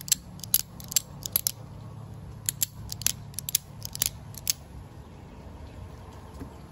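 Demko AD20.5 folding knife clicking as its mechanism is worked, a close series of crisp, sharp metallic clicks in irregular bursts, some in quick pairs, over a quiet background.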